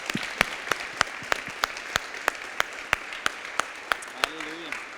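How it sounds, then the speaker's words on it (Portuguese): A church congregation claps in a rhythmic unison beat, sharp evenly spaced claps filling the room, with a brief vocal sound near the end. "Vamos dar uma salva de palmas para Jesus?"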